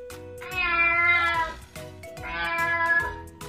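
A cat meows twice, each a drawn-out, wavering cry lasting about a second, close and clear over a faint background.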